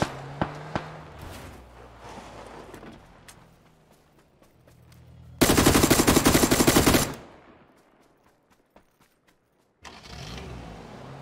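Rapid automatic gunfire in the console video game PUBG, a loud dense burst lasting about two seconds mid-clip, with scattered fainter shots and game ambience around it and no talk.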